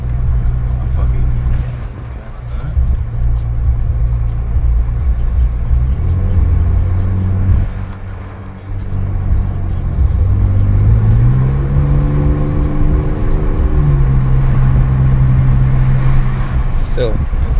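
Ford Raptor 4x4 pickup truck driving in exhaust mode, loud low engine drone that dips twice, then climbs audibly through the revs and shifts gear, with a person talking over the engine noise.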